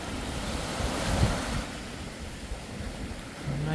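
Ocean surf washing onto a Florida beach on a cold, windy day, a steady close roar of breaking waves with wind buffeting the microphone throughout.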